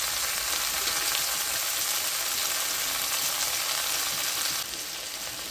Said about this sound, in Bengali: পেঁয়াজগুলো সুন্দর করে ভেজে নিতে হবে